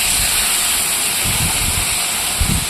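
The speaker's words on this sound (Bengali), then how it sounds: "এবার বাকি মাছগুলো এভাবেই ভেজে নেব" Pieces of fish fry in hot oil with a loud, continuous sizzle and hiss, broken by a few soft low knocks near the end.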